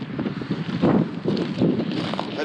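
Strong wind buffets the microphone on the coast at Vík in southern Iceland, a rough, gusting roar that rises and falls close to the microphone throughout.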